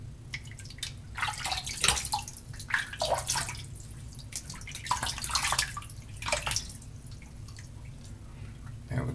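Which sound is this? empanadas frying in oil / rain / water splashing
water splashing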